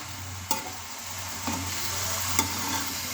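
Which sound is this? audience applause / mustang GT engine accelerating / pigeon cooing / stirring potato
stirring potato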